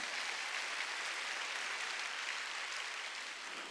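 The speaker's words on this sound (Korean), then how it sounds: "깨달았으면 박수치라니까" Church congregation applauding during a Wednesday worship service, a dense steady wash of clapping that fills the room, loud and continuous, fading only slightly at the end, with no talk over it.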